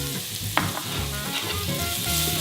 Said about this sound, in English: We're going to start with a pretty hot pan. And we're going to add our favorite garlic.